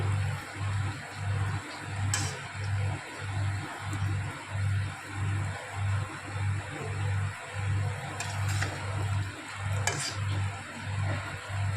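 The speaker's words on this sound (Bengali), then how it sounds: "চলো বড়াগুলো ভেজে নেই" Palm fruit fritters fry in oil with a constant close sizzle, while a steady rhythmic low thumping pulse runs underneath and a few faint clinks cut through.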